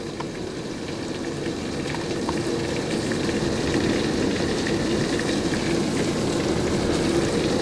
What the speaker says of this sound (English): It's a lot of rain coming down.